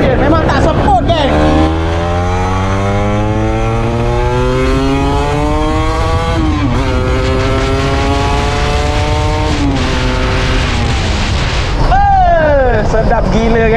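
A Kawasaki RR150 motorcycle engine revs repeatedly on a test ride, pitch climbing through gears and dropping back, loud and close, with a final sharp rev near the end.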